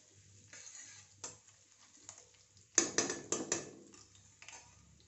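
A spoonful of fennel seeds goes into hot oil in a kadhai. Quiet clinks of metal come first, then a sudden burst of crackling sizzle follows, with a few sharp spits, before it settles back down.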